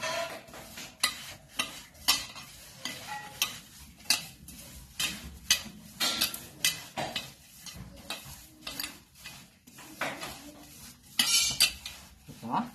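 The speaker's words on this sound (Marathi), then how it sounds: "आणि हे मिश्रण आता चांगलं हलवून घ्यायचं." A spoon stirs a spiced fish fry masala mixture of chutney and chilli powder in a bowl, giving repeated close clinks and scrapes in an uneven rhythm, with no talking.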